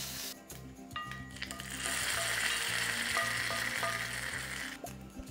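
A hot tempering of curry leaves in oil is tipped into chutney and sizzles loudly, a bright crackling hiss that swells and holds over a few seconds, with faint clinks and stirring underneath.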